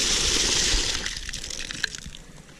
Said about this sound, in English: here's my water hydrant that I'll use to water the garden for this year